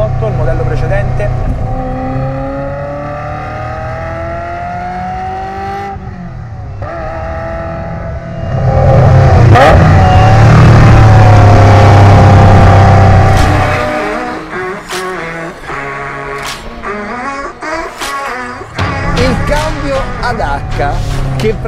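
A Ferrari F355 Spider, a dry-sump sports car, revs loudly with its engine note rising and falling across several gear changes, building to a sustained roaring peak before easing into choppier bursts, with talk over parts of it.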